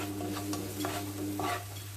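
Spices frying in a pan for a cauliflower jollof rice, a brief low sizzle with a few soft stirring scrapes and clinks, fairly quiet and without talk.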